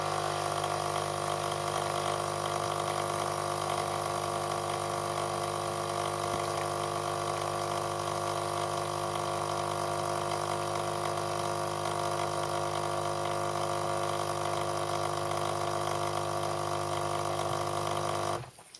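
A Krups Dolce Gusto Circolo KP5001 coffee pod machine dispenses hot chocolate with a steady, loud pump buzz and hum that continues unbroken for about eighteen seconds, then cuts off abruptly.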